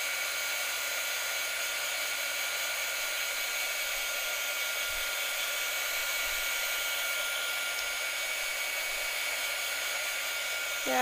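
A hair dryer blowing steadily on freshly painted Halloween treat cans, a loud constant whir that runs unbroken the whole time with no talking.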